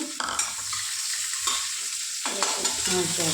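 Chopped onions sizzle loudly in hot oil in a home kitchen pan, a steady close frying hiss with stirring scrapes and clinks, no talking.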